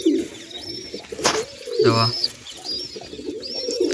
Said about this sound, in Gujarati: અહીં છે મારા કબૂતર